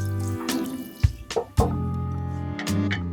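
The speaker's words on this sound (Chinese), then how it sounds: "再下淮山干，倒入足量的鸡汤" Chicken stock poured into a clay pot holding soaked rice and dried Chinese yam, a close gurgling, splashing pour broken by a few brief drips and bubbles.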